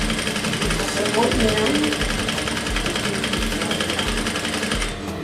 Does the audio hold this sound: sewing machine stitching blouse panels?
yes